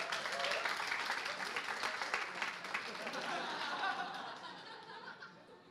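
A stand-up comedy crowd claps enthusiastically, mixed with scattered laughter and chatter, the applause gradually thinning out toward the end.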